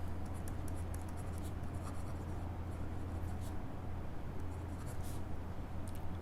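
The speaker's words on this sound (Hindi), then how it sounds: "यहां लिखेंगे विड्रॉल" Chalk or a marker scratches across a board during a math class, faint intermittent scraping strokes over a steady low electrical hum, with no voice.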